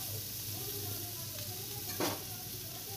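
Eggplant and bitter gourd frying together in a pan, a steady soft sizzle throughout with one brief louder stir or scrape near the end, no voices.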